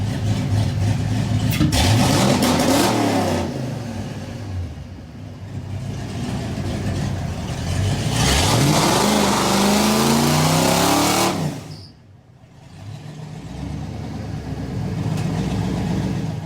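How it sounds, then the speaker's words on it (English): A Ford Mustang Fox Body with a 5.0L V8 does a burnout inside a shop on new concrete, the engine revving hard and loud in rising and falling sweeps, with a brief drop in the middle before roaring again. "Always got to do a shop burnout when you pull the Mustang in, test the new concrete out."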